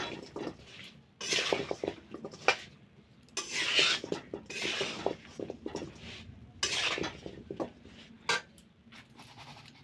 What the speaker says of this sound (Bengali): এবার ভালোভাবে জলপাইটাতে মশলাগুলো মিলিয়ে